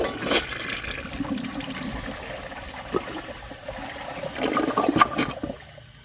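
A 1998 Eljer Savoy toilet flushing with a washcloth in the bowl, a steady rushing swirl of water that builds to a louder gurgling surge near the end before cutting off.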